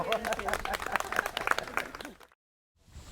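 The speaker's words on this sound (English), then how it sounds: "I hear the clapping's going on down below" Scattered applause from an audience at an outdoor cemetery walk tour, steady rapid clapping that carries on for about two seconds and then cuts off into near silence.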